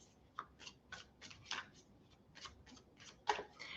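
Tarot cards being shuffled by hand, a series of soft, crisp riffling snaps at uneven intervals, close and quiet, with no talk.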